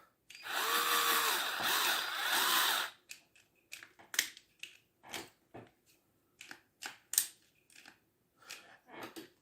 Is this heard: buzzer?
no